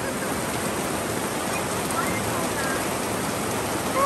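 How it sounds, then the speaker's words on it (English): Rain falls steadily on a campsite, a continuous soft hiss of drops on surfaces, fairly faint and unbroken for the whole stretch. "It's raining, it's pouring."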